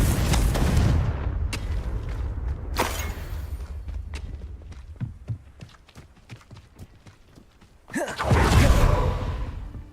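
Confringo fire-spell blasts in the Hogwarts Legacy video game: a loud booming explosion with a whoosh, then scattered clicks and thuds, and a second heavy roaring blast near the end.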